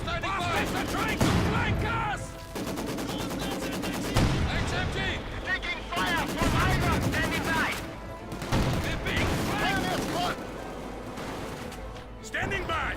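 Maxim machine guns in Company of Heroes 2 fire repeated rattling bursts of varied length under continuous commentary, with game battle noise in the background.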